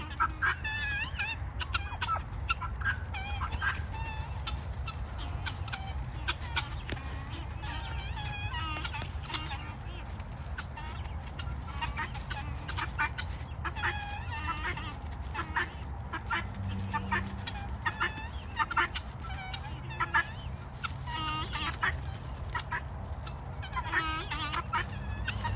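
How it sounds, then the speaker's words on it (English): Turkeys fight and gobble nearby, a continuous busy chorus of rapid gobbles, clucks and squawks with scuffling underneath, loud and close throughout, with occasional voices in the background. "the turkeys can kill each other. Typically they don't. They just fight like this, pretty brief."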